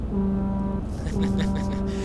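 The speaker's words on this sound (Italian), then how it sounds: "Guardate che figo il clacson." A deep truck horn in the video game Euro Truck Simulator 2 sounds twice, long low blasts over a constant rumbling engine drone.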